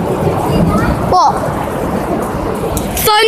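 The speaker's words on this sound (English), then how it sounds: "Thunder! Oh, thunder!" Thunder rumbles through a heavy rainstorm, with steady, dense rain noise filling the clip and a voice briefly calling out twice over the downpour.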